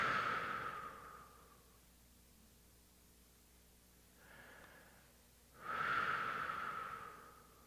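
A person demonstrates slow, calming breathing: a long audible exhale that fades, a pause, a soft inhale, then another long exhale, all close and breathy, with no talking.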